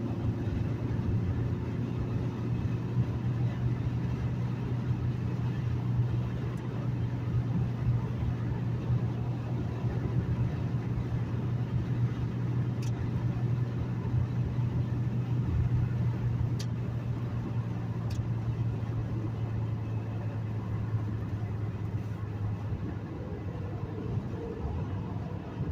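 Manual-transmission car engine droning steadily as the car slows while downshifting from fifth toward third gear, a continuous low hum with road and wind noise throughout.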